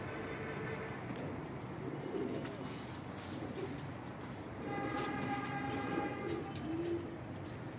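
Several pigeons perched together coo in a low, throaty murmur, with a steady rumble of background noise throughout and a stronger stretch of cooing in the second half.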